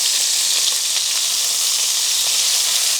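Marinated food sizzles on an outdoor barbecue grill, producing a dense, loud, unbroken hiss of fat and juices spitting, steady from start to finish with no voices.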